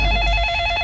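Short burst of electronic telephone ringing, steady tonal ring heard alone and fairly loud, lasting under a second.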